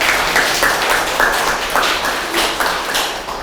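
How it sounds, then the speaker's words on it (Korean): An audience claps at the start of a science lecture, a close, lively patter of hands in uneven waves that gradually thins and fades toward the end. "박수 부탁드립니다."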